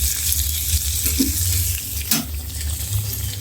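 Food fries in oil in a home kitchen pan with a steady, close sizzle that continues without pause, and a few faint clinks sound underneath.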